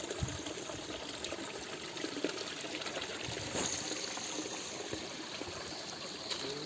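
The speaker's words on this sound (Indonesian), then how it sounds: "Di depan itu ada air terjun Kuwung" Water from the Kuwung waterfall rushing steadily on the way to the falls, a continuous broadband wash of flowing water with no speech.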